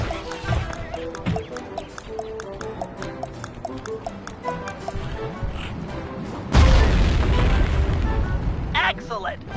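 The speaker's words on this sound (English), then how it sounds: "Place the dynamite when you get near the anchor, or kaboom!" A dynamite blast erupts in the game Sly 3, a sudden loud boom that swells into a sustained rumbling roar after several seconds of music and game sounds.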